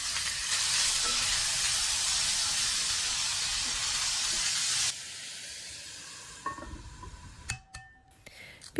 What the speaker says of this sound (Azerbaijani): Soğan biraz qovrulandan sonra əti əlavə edirəm soğanın üzərinə.